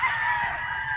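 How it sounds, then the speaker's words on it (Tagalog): Chickens at Baluarte Guapo in Tagaytay, a steady, fairly loud chorus of clucking and crowing fowl that carries through the whole second with no talk over it. "Ayan po yung mga manok, oh."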